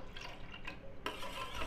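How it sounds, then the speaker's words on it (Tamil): Milk being stirred into an egg and sugar mixture for sweet bread toast, a soft liquid swishing and clinking that steps up briefly louder partway through, with no talking. "நல்லா கலந்துக்கோங்க"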